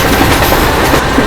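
The Tirupati-Puri Express running on the line, a loud, close, continuous roar of rolling wheels and carriage rumble with a faint clickety-clack rhythm, lasting about a second.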